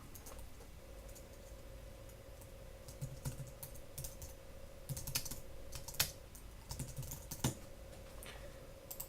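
Computer keyboard keys tapped while typing a title during gradebook feedback setup, scattered clicks in irregular bursts over a steady low hum, moderately close and fairly faint, with no talking.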